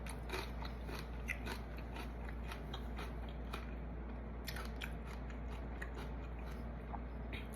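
Raw celery being bitten and chewed close up, a steady series of crisp crunching bites over a constant low hum, with no talking.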